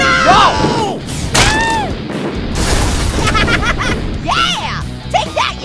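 A cartoon snow cannon fires a rapid series of loud booming shots, punctuated by whistling squeals and crashes of objects being hit, heard close and alone.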